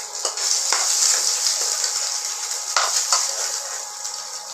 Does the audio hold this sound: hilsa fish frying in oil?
yes